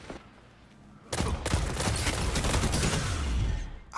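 Tone Patrol scout rifle firing in Destiny 2 PvP: after a quiet second, a dense burst of rapid shots and impacts runs loud and continuous for about three seconds, then cuts off.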